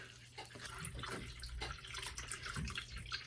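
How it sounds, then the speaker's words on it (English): Water pours steadily into a container to make lye water for cold-process soap: a soft continuous trickle, faint and near, with slight splashing. "I'm gonna put my water in first."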